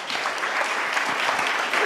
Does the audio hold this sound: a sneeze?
no